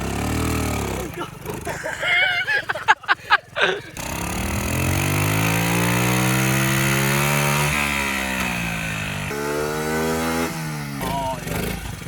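A vintage pit bike engine buzzes loudly while it is ridden, with choppy blips at first. A long rising rev follows, then a drop at a gear change and a fresh climb, with occasional voices in the background.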